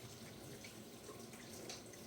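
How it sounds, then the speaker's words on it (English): A kitchen tap runs steadily into a sink for hand washing, a continuous soft rushing of water with no voices. "I actually wash my hands quickly."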